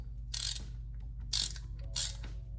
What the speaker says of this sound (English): I recommend getting a ratcheting screwdriver of some sort. That's, for those who don't know, that's the ones that do this.